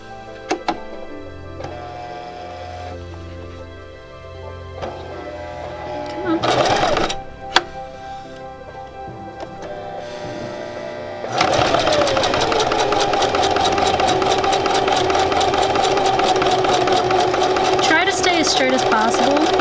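A domestic sewing machine runs at speed stitching a small fabric pouch, a fast steady mechanical whir that starts after some quieter handling and talk early on, then continues loud and even.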